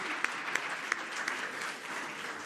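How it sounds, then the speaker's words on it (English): Audience applause fills a stage event honoring lawyers at Variety's Power of Law gathering: a steady, dense wash of clapping with a few sharper claps standing out, and no talking. "a round of applause."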